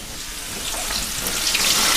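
A whole six-pound chicken drops into 375-degree peanut oil in a Masterbuilt deep fryer, setting off a rising, rushing hiss of bubbling oil that grows louder over two seconds.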